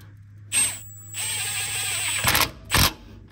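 A power tool drives a 10 mm bolt into a weld nut on a bracket during lift kit work on a GX470, with short whirring bursts, a sustained buzzing run, then two sharp ratcheting impacts as it tightens.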